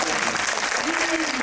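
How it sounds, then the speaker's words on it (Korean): An audience at a guest-visit screening event for the film The Tyrant, attended by an actor, applauds loudly and continuously in a packed cinema hall, with a voice faintly audible under the clapping. "박수 한번 부탁드립니다"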